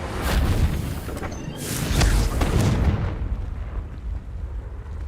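Confringo blasting spell in Hogwarts Legacy, a loud booming magical explosion with rumbling low end that swells twice in the first three seconds, then a softer lingering rumble as it fades.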